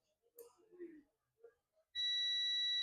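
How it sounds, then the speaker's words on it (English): Multimeter continuity beep while probing the gate, source and drain of a MOSFET on a Dell Latitude E5250 logic board, a steady high electronic tone starting abruptly after a stretch of quiet speech. "You can see the gate with source and drain is beeping."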